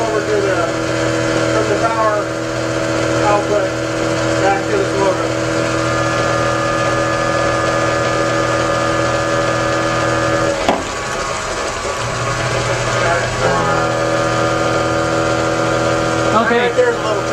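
Electric motor running steadily as the load on a generator, a constant tonal hum and whine with a brief dip and shift around the middle, continuing alone without talk.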